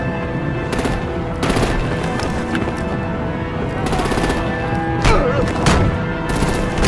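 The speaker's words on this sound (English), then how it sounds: "Break out the artillery and disable their vehicles!" Rapid machine-gun and artillery fire in a Batman Telltale game, loud repeated bursts of shots and booms close by, with voices shouting over the barrage.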